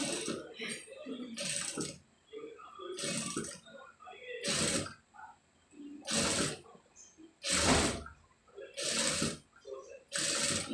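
A sewing machine stitching piping onto a front neck piece runs in short regular bursts, about eight separate runs with quiet pauses between them.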